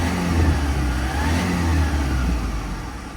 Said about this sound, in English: Give it a little rev, Chris.